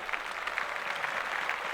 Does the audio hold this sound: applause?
yes